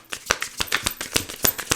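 Tarot cards being shuffled by hand, a quick run of crisp riffling flutters and soft slaps in an uneven rhythm, close and fairly quiet, with no voices.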